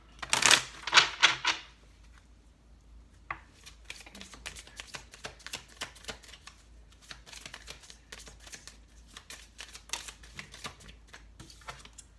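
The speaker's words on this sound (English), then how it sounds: "Last shuffle." Tarot cards being shuffled: a loud riffling burst near the start, then a long run of soft, irregular card flicks and taps, close and alone with no voices.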